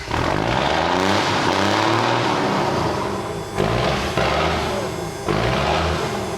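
A bobbed M35 deuce-and-a-half military truck revs through its freshly welded exhaust, a deep rumbling engine rising and falling in several loud pulses, close and alone without speech.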